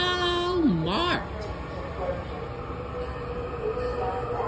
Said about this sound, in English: Yay! The Marc train.